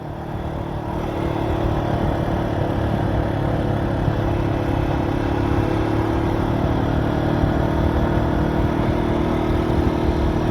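Motorcycle engine running steadily on a long highway ride, a constant close drone with wind rush and a low hum throughout, no voices.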